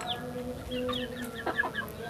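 Chickens recovering from respiratory illness cluck softly and repeatedly close by, with short overlapping calls over a low background hum.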